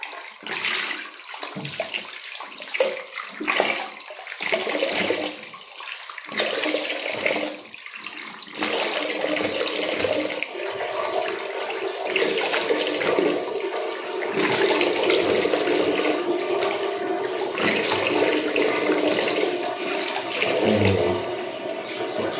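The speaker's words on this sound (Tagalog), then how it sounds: "So, banlawan natin." Water runs from a tap into a sink while a man rinses his face during a grooming routine, a steady splashing rush that grows fuller and louder toward the end with brief gurgles, and no talking.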